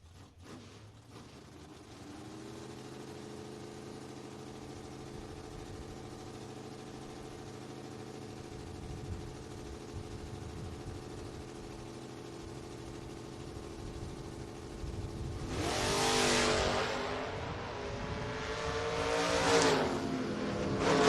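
A Chevrolet Monza drag race car idles at the start line with a steady mid-pitched engine drone, then revs hard in two loud bursts near the end, heard at a distance without talk.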